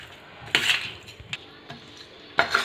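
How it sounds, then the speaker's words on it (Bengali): Muscovy duck meat being mixed with ginger paste, mustard oil and spices in a metal pot, a few sharp clinks and scrapes of a utensil against the rim with quiet pauses between. "মাংসের সঙ্গে সব উপকরণ ভালোভাবে মিশিয়ে নিয়েছি"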